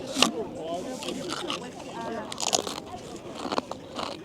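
All dressed flavour potato chips, with vinegar, onion and jalapeño seasoning, bitten and chewed with loud close crunches in several bursts, while a person talks casually over the chewing outdoors.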